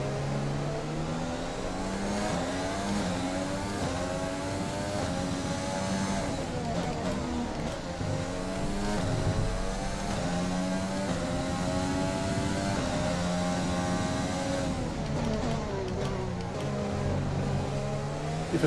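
A Formula 1 car in the F1 2020 video game races at the Canadian Grand Prix, its engine whining loudly with rising and falling revs as it shifts through gears, continuous and close throughout.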